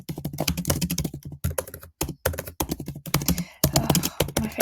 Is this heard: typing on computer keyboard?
yes